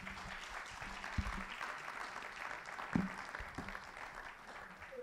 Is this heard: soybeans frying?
no